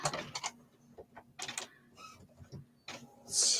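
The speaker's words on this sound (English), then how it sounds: "So you're going to hear my printer." A home printer runs close by, feeding and printing with rhythmic mechanical clicks, whirring bursts and stops, ending in a higher-pitched whine.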